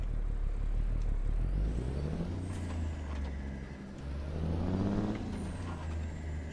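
Cummins N14 diesel truck engine from a ZEEMODS engine pack in a truck driving game, a loud steady rumble that swells and fades as revs change, with a sharp air-brake hiss midway and no talking.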